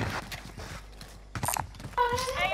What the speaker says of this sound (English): I think I need to reload it.